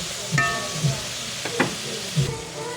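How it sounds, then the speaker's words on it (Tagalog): Shrimp payola soup bubbles and sizzles in a pot while a utensil stirs it, giving several distinct knocks and scrapes against the pot over a steady frying hiss. "Kaya natin pong haluin."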